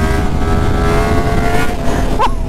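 A Yamaha FZ10 motorcycle with titanium R1 headers accelerates hard in third gear down a hill, a loud, continuous, close engine roar with no pause.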